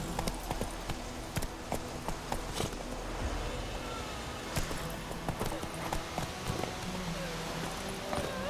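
Horse hooves clip-clopping steadily in The Witcher 3 game world, a rhythmic run of hoofbeats under ambient game sound, with a voice speaking at moments.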